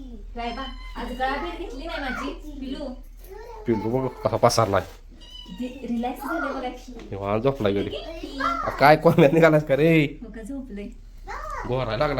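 A cat meows repeatedly among excited children's chatter and adult talk, the cries rising and falling in short bursts.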